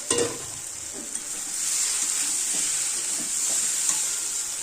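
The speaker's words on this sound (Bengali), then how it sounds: "আলু ভাজাটা দিয়ে আবার কষাতে হবে" Fried potatoes are stirred into a jackfruit curry with prawns in a pan, producing a steady, fairly quiet hiss and sizzle with a few soft spatula scrapes near the start.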